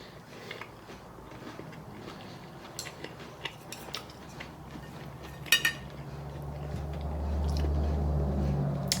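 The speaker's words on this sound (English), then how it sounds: "I don't know if you can hear that crunch, but it is so crispy, so crunchy, and so good." Crisp crunching bites into a fried, breaded cutlet, a string of sharp crackly snaps close to the mic, while a low steady hum rises toward the end.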